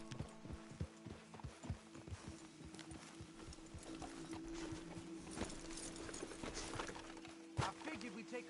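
Horses in Red Dead Redemption 2 clip-clop along a road at a walking pace, several hooves thudding in quick uneven rhythm, fairly close, under a steady low background hum.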